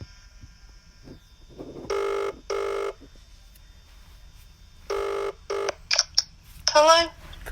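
A phone ringback tone during a call: two long, even tone bursts, a pause, then two more, followed by a brief clipped sound as the line connects, heard alone over quiet background hiss.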